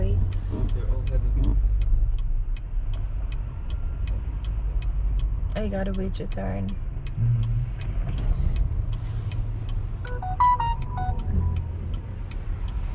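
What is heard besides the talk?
car traffic at a downtown Chicago intersection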